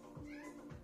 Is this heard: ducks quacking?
no